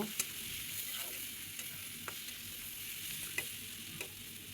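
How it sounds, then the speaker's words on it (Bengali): Dried Bombay duck fish frying with onion and garlic, a steady broadband sizzle with a few sharp clicks of a utensil stirring the pan, close and moderately quiet, with no voices. "এখন আমি ধুয়ে রাখা শুটকিটা এখানে দিয়ে শুটকিটাও পেঁয়াজ রসুনের সাথে ভাজবো"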